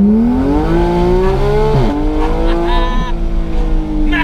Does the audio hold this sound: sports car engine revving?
yes